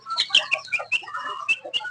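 A desi hen suffering from a cold clucks softly in a rapid run of short, choppy calls, faint and close, with no voices over it.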